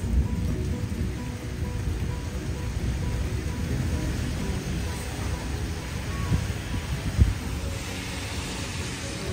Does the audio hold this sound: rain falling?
yes